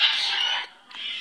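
A pet bird gives a bright, shrill call that breaks off briefly and then resumes, loud and close, with no speech.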